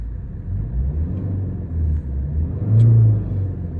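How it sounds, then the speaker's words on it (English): A 2012 Volvo C30 D2 1.6 diesel engine idles with a low rumble, then briefly revs up near the end before settling back down. "I'll give it a very quick rev so you can hear it."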